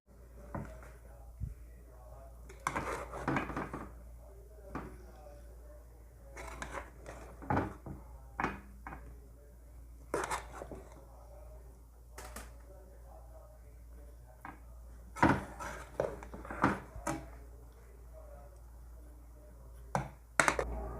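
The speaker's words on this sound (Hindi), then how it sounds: "अब इसको मैं डिश आउट करती हूँ।" Dum biryani served out of a cooking pot, with scattered clinks and scrapes of a spoon against the vessel, some louder knocks, and occasional speech between them.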